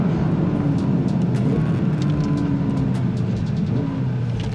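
A 2022 Porsche 992 GT3 drives fast with a continuous strong engine roar and road noise, pitch rising and falling as it accelerates and shifts, with no talk.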